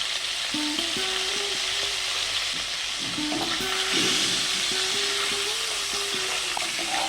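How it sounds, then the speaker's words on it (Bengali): Three hilsa fish heads with salt and turmeric fry in hot oil, a loud, continuous sizzle with occasional stirring scrapes close by. "এখানে আমি তিনটে মাছের মাথা দিলাম ছোট সাইজে দিয়ে দেবো নুন হলুদ গুঁড়ো"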